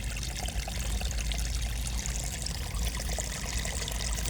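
Water flows steadily through a flooded rice paddy, a loud, continuous rushing and trickling wash that holds even throughout with no voices.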